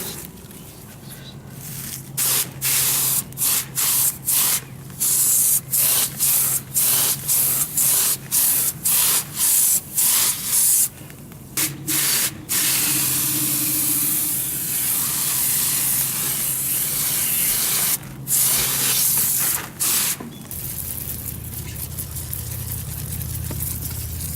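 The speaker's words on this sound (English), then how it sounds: "I had coil cleaner spray all over me" Repeated bursts of spraying hiss, some short and some sustained, from a nearby nozzle spraying non-acidic coil cleaner on an HVAC coil, with a low hum underneath and a quieter stretch at the end.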